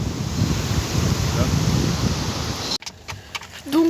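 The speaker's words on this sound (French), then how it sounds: "on adore les vagues" Ocean surf at Hendaye beach, a steady, heavy roar of breaking waves mixed with strong wind buffeting the microphone, cutting off abruptly near the end to quieter background with faint clicks.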